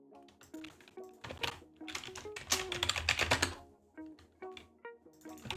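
Fast, irregular typing on a computer keyboard while coding a chess variant, close-up clicks in bursts with short pauses between them and a few louder keystrokes.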